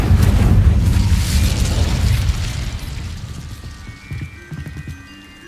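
In the Hogwarts Legacy video game, the Incendio fire spell is cast with a loud roaring burst of flame that rumbles and crackles, then fades over a few seconds into quieter crackles and faint chiming effects.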